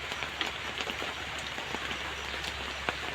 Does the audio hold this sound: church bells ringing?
no